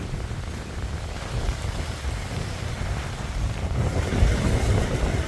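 A large motorboat arriving at Balaytegue, its engine droning loudly amid wind buffeting and splashing water, growing slightly louder toward the end.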